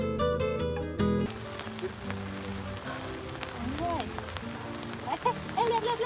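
Steady rain patters down at the Curug Layung camping ground, a constant soft hiss. Someone talks over it, and a brief bit of music plays at the start.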